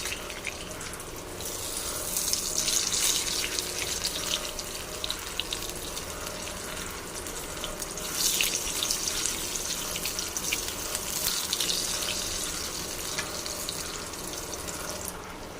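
Eggplant slices fry in a pan for a vegetarian Bengali dish, giving a continuous sizzling hiss with a few louder, brighter surges, heard alone without talk.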